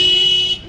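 Street traffic in Farrukhabad: a single sustained car horn blast holds loud and close, then cuts off abruptly.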